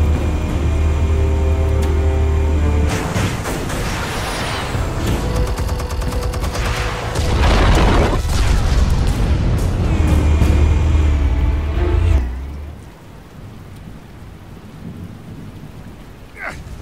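Explosives detonating in Batman: The Telltale Series, a long, loud rumbling roar with crackling debris that rolls on for several seconds before cutting down to a faint low tail.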